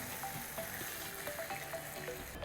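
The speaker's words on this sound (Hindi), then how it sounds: "इसमें अब हम डालेंगे पानी" Water poured into a hot pan of fried soya chunks while making veg biryani, a steady faint hiss and sizzle with small bubbling pops, quiet and continuous.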